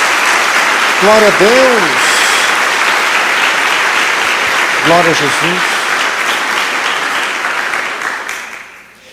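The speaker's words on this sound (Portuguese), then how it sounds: "Dê uma salva de palmas a Jesus" A church congregation applauds steadily and loudly throughout, with voices calling out praise over the clapping, before the sound fades toward the end.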